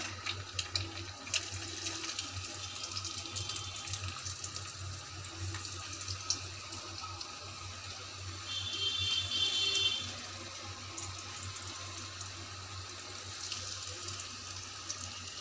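Prawn balls fry in oil over a low-medium flame, giving a steady, close sizzling hiss that holds throughout and briefly swells louder near the middle before settling back to a constant bubbling.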